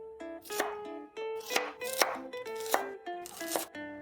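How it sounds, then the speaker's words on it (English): A knife chops onions on a cutting board in a home kitchen, about eight crisp, evenly spaced strikes over soft background music, with no talking. "Lastly, chop about 3 small sized or 2 medium sized onions."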